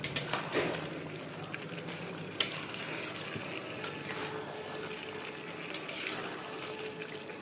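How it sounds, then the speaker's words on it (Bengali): Chicken curry bubbles and sizzles in a pot while a spoon stirs and scrapes against the sides in scattered knocks, close and moderately quiet. "জল ছেড়ে এসে আমি আবার নাড়াচাড়া দিয়ে দেখে নেব কেমন কি হয়েছে"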